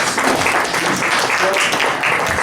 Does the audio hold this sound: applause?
yes